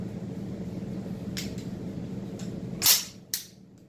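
A semi-automatic rifle fires a few separate sharp cracks spaced over a couple of seconds, the loudest near the end, above a low steady hum in an otherwise quiet setting.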